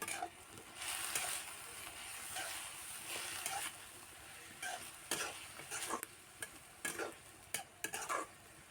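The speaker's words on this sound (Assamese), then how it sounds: "নিমখ হালধি দিয়াৰ পিছত পুনৰ লৰাই দিছোঁ" Greens being stirred in a pan after turmeric and salt are added, a steady soft scraping and rustling with faint sizzle, broken by sharper utensil scrapes and knocks toward the end, close by and without talk.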